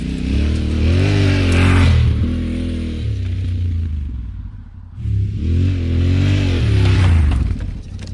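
An adventure motorcycle rides through a forest, its engine revving up and falling away twice in passes, loud and close with wavering pitch, and a quieter lull between the runs.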